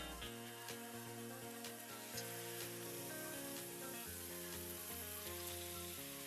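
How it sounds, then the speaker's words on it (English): Steady frying sizzle of chicken in a hot pan fills the clip, a continuous crackling hiss, with music playing underneath and no talking. "So now we're gonna add our chicken to the pan."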